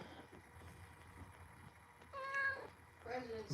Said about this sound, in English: President's Meow.